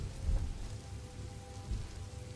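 Steady rain ambience playing in the background of a drawing work stream, a dense, even hiss of rainfall on a surface with low rumbling undertones, constant throughout with no speech.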